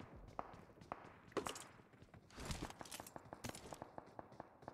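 Footsteps in PUBG Mobile, a quiet run of soft thuds and scuffs stepping at an irregular pace, faint and fairly near.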